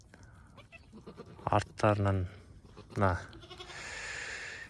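Goats bleating near two newborn kids, with three wavering bleats close by in quick succession over steady background hiss, while a person speaks softly.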